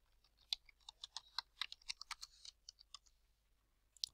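Typing an address on a computer keyboard: a quick close run of soft key clicks in an uneven rhythm with short pauses, and no talk over it.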